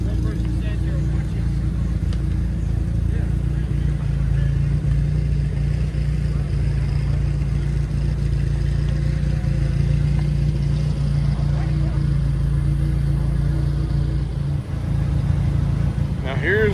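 A small roadster's engine at a hot rod car show runs loud and close. A continuous low rumble holds steady with a brief dip near the end, and there may be voices under it.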